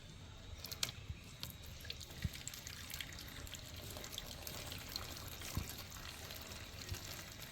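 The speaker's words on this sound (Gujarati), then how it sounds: "આ કન્ટેનરમાં પાણી રેડશું જેથી કરીને છે ને આ જે મીણ છે ને એ બધું ઠંડુ થઈ જાય" Water poured slowly into a container holding hot candle wax to cool it, a faint, quiet trickle and drip with soft clinks over a low hiss, no voices.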